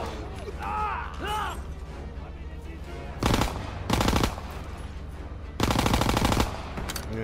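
Bursts of machine gun fire in a Call of Duty WWII battle, two short loud volleys and a longer sustained burst, with a voice talking earlier over rumbling background combat.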